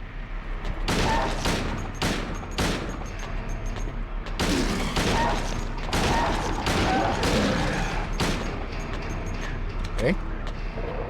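Gunfire rings out in Silent Hill 2 on PS2, a run of sharp, loud shots fired in irregular bursts with short gaps between them. A voice talks over the shooting.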